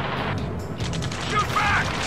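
Continuous gunfire and rumbling battle noise in an Ace Combat 7 mission, dense and steady with faint shouted voices mixed in.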